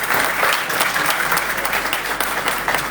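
Workshop audience giving a round of applause, a brief burst of many hands clapping close and steady with no speech on top.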